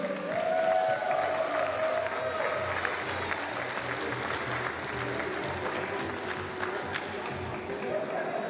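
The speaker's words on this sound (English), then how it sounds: "A round of applause for the senior male podium." Sustained audience applause with some cheering fills an indoor venue at an ice climbing Continental Cup finals in Sunderland, UK, a steady dense wash of clapping from a crowd.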